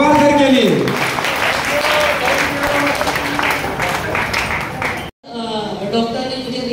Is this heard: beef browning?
no